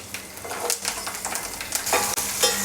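Peeled garlic cloves and curry leaves frying in hot oil with asafoetida, a steady crackling sizzle with intermittent louder spits and stirring scrapes, close and without voices.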